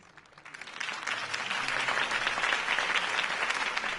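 Crowd applause for Harvey Dent's campaign speech in the Batman Telltale video game, a dense wash of many hands clapping that swells in over the first second and holds steady and loud throughout.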